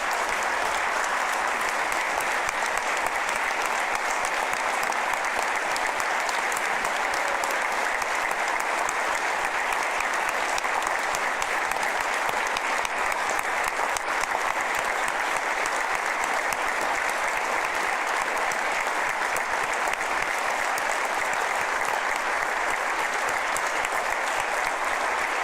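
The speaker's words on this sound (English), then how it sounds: "We'll give you a round of applause," Sustained, dense applause from a large audience honoring nursing home staff at a political speech, a steady roar of many hands clapping that holds evenly throughout with no voices breaking through.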